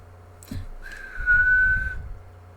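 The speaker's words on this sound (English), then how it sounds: "Can't whistle." A person whistles a single sustained, slightly wavering tone for about a second, close and fairly loud, after a brief noise, with low room rumble throughout.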